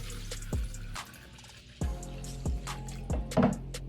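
Water pours into a blender bottle in several short gurgling bursts, close and clear, with pauses between the pours and no talking.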